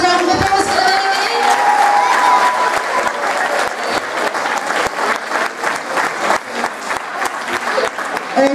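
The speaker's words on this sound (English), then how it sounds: "Can we have a massive round of applause for them anyway?" A school hall audience applauds a Year 9 house quiz team, loud, dense clapping with some cheering that carries on steadily and starts to thin and turn patchy toward the end.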